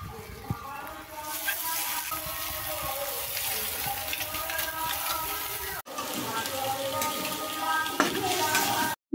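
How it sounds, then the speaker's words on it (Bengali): Potatoes sautéing with spices in a pan, a steady bright sizzle throughout with faint talk underneath, briefly cut off then resuming, with a clatter near the end. "এই দেখো এখানে মশলা দিয়ে আলুটাকে কষিয়ে নিচ্ছি"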